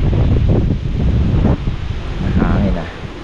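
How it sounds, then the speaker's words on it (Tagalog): Steady wind blowing across an outdoor fishpond, a loud continuous rushing roar with gusty swells and no talk over it. "Hangin na."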